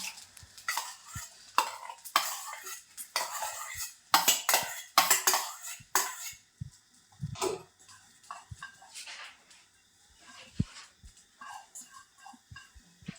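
Flaxseed and garden cress seeds are stirred in a pan with toasted coconut, giving soft scraping and clinking of a spoon against metal in quick, uneven strokes, close and fairly quiet.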